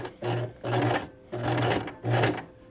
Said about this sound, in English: now we can just go nice and slow across the top